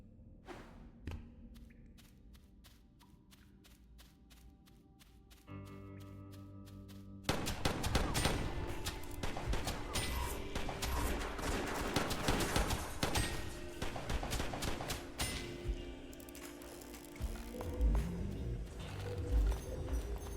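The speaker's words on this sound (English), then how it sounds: "Each shot homes in on enemies." Repeated gunshots from homing firearms in the video game West of Dead, a steady rapid volley of cracks and thumps layered over loud game music and effects that swell partway through.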